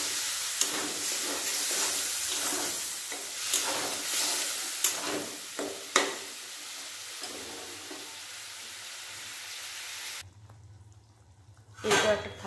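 Water splashes into a pan of fried soybean chunks for a vegetarian curry made without onion or garlic, with steady loud sizzling, scattered utensil knocks, then a sharp hiss-and-spatter burst near the end.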